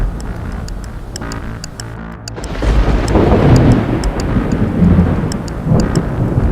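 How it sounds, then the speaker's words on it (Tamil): A loud thunderstorm rolls with deep rumbling thunder that swells midway, heavy rain hissing steadily throughout, and wind buffeting the microphone. "அப்போ இடி மின்னலோட வெளியில பயங்கரமா மழை பெய்ய ஆரம்பிக்குது"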